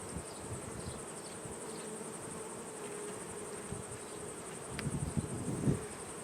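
Honeybees buzz in a steady, close drone while a hive is opened and two colonies are combined, with a few brief handling knocks and scrapes near the end.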